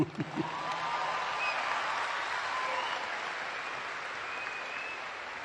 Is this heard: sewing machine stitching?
no